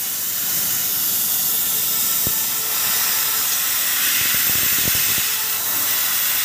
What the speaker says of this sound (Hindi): देख रहे हो गैस भरा हुआ है, पर कंप्रेसर नहीं चल रहा है तो क्या करें, तो गैस उड़ाएंगे।